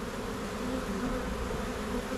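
Honey bees from a swarm drone steadily around their hive in a low, even buzz that holds constant throughout, with no voices.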